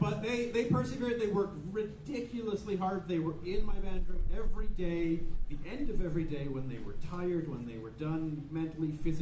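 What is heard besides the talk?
None of the usual background noises is heard.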